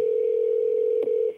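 A telephone dial tone sounds loud and steady on a conference call line after it has dropped, holding one constant pitch with a brief click near the end before it fades.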